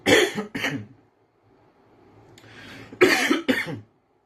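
Two pairs of harsh, close coughs, each pair in quick succession, separated by a quiet pause with a faint breathy rasp.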